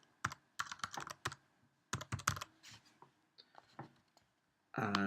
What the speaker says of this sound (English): I'm going to type in the name of the game, so The Amazing Pac-Man